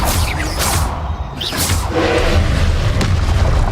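In the Hogwarts Legacy video game, the Confringo explosive spell lands as a few deep, loud booming blasts with whooshing bursts, close and dense, with no pause between them.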